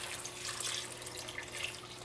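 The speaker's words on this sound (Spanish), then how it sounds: "Y vamos a colocarle agua." Water being poured into a cooking pot with nopales and onion, a steady close splashing and trickling stream that runs continuously at a moderate level.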